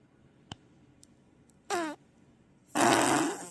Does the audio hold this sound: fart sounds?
yes